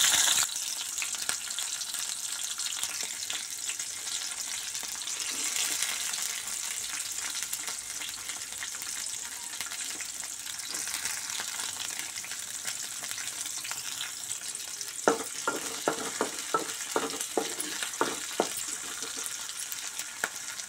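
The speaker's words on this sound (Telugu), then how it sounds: "అవి వేగిన తర్వాత పచ్చిమిర్చి ఉల్లిపాయలు వేసుకుందాం" Green chilies and onions fry with mustard seeds and cumin in hot oil, a steady loud sizzle throughout, joined late by a run of sharp rhythmic spatula taps against the pan.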